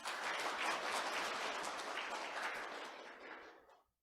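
An indoor audience at a Korean corporate results-presentation event applauds after a speech, a dense, even clapping that holds for about three seconds and then fades out quickly to silence.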